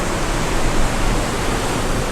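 Surf crashes at Bondi Bay beneath a headland, a loud, unbroken wash of broadband roar heard close for a couple of seconds.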